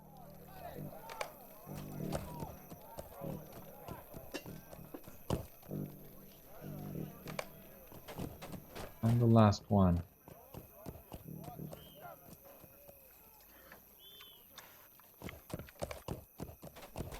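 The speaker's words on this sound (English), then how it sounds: "Bring the horses." Horses in the online game Lord of the Rings Online, running with repeated clip-clopping hoofbeats and a brief neigh partway through, heard under someone speaking throughout alongside other game effects.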